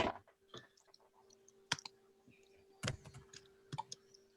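Typing on a computer keyboard in a meeting room, scattered quiet key clicks with a few sharper taps and an electrical hum underneath.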